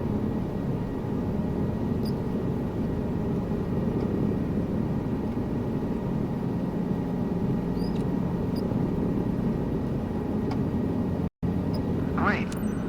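Simulated helicopter lifting off into a low hover in Microsoft Flight Simulator 2024, a steady dense rotor and engine drone holding constant throughout, close and continuous, with brief faint chirps over it.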